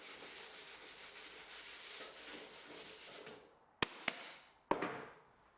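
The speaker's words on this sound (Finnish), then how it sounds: "Yritän hiomalla saada osan tummasta maalista pois, jotta korjaukset hieman vaalentuisivat." Steady, close sanding rubs dark paint off a mid-century dining table in a continuous rasping rhythm for a few seconds, then stops, followed by a few sharp knocks.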